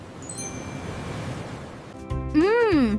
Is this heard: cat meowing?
no